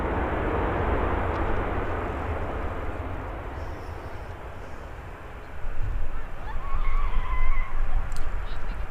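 Airliners at Birmingham airport, Ryanair jets and a Loganair ATR turboprop, rumble on as a steady broadband engine roar that swells louder in the last few seconds as one comes closer, with faint bird calls and no talk.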